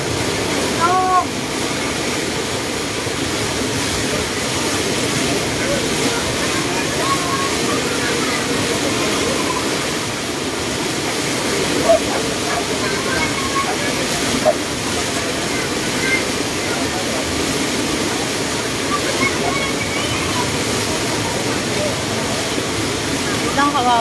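Floodwater from a typhoon rushes in a broad, steady roar through a flooded area in Rizal, continuous and loud for the whole stretch, with faint voices and scattered knocks buried beneath the churning noise.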